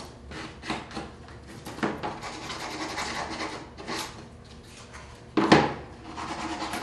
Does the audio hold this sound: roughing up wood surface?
yes